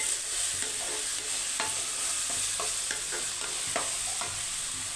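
Okra fry is stirred in a pan, with a steady frying sizzle and repeated soft scraping strokes of the spoon, close and alone, with no voices.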